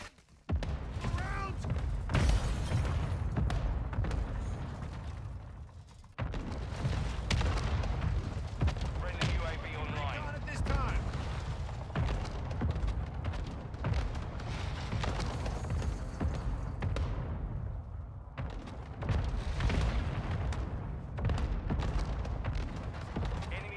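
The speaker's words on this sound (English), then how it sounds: "Hostile mortar strike incoming." Heavy mortar strike explosions and gunfire in Call of Duty Warzone 2.0 rumble almost without pause, dense low booms and crackling shots layered over game voice callouts, with a brief drop near six seconds before the barrage resumes.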